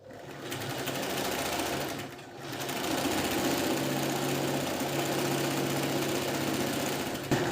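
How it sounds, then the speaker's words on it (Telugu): An electric sewing machine runs close up in a fast, even whir of stitching through blouse fabric, pausing briefly once before carrying on steadily to the end. "సో నీట్గా చూసుకుని కుట్టుకోండి ఇలా సింగిల్ స్టిచ్ అయితే పెట్టేసుకోండి"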